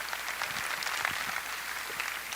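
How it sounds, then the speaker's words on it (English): An audience at a talk between Richard Dawkins and Bret Weinstein gives steady, even applause from many people, moderately loud, with no talk over it. "Please give yourselves a round of applause."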